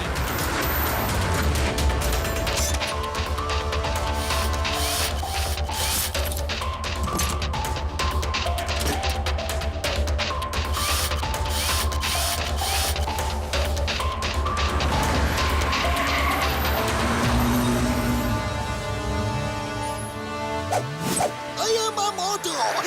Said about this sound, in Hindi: ये म्यूजिकल कार सबको ओवरटेक करती हुई आगे निकली